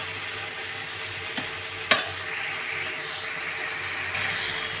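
Ground spices, turmeric and chopped tomato cooking in a pan with soybean curry, a soft steady sizzle broken by two sharp clinks of a spoon against the pan, with no talking.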